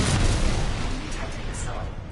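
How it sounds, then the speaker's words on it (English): A Titan's salvo core unleashes a missile barrage in a multiplayer video game: a dense, loud, continuous rumble of overlapping blasts and pops that tapers slightly over about two seconds, with a voice over it. "Salvo core active."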